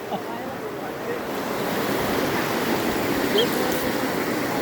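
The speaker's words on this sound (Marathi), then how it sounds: "हे पूर्ण पाणी जोरजोरात राहत आहे." Rushing floodwater near a railway station roars as a steady, broad wash of noise that swells slightly and holds loud throughout, with no clear talking.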